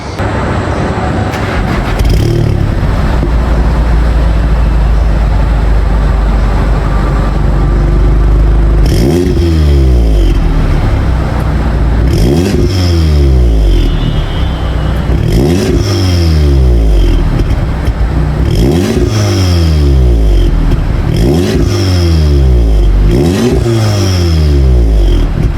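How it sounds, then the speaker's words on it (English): A sporty used car on stock standard quad exhaust pipes cold-starts with a loud close roar and settles into a fast idle, then gets about six sharp, evenly spaced revs that rise and fall back. "so that you guys can properly hear a cold start from these quad pipes"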